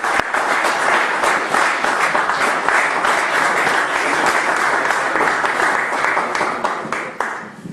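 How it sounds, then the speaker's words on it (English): An audience breaks into sustained, dense applause to welcome a speaker onto the stage at a talk on Islamic origins, loud and steady before tapering off near the end. "Let's bring Self-Justice up with a round of applause."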